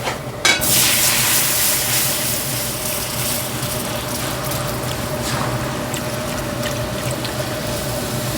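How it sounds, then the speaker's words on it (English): Half and half poured into cooked flour gravy in a hot pan for chicken fried brisket steak, a sudden loud splash then a strong steady sizzle and bubbling hiss that holds evenly, close and without talk. "I'm going to add a little bit of half and half."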